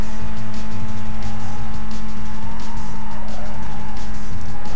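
Race car tires skid and squeal in a Need for Speed: Most Wanted street race, loud and continuous over a steady engine roar with no talking.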